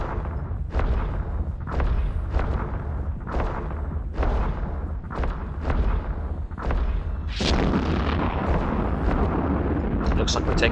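Ship weapons fire in the space game EVE Online as a series of booming bursts roughly every second, followed by a denser, louder rumble of impacts and explosions near the end.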